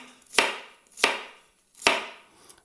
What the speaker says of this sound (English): Chop them up, roughly break them up and get them in.